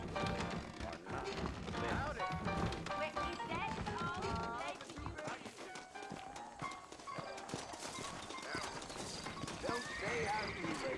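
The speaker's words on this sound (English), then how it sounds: "I got the horses saddled up and ready out front." Horses trot in the Red Dead Redemption video game, a steady clip-clop of hooves with an occasional whinny, heard under game dialogue and a music score for about eleven seconds.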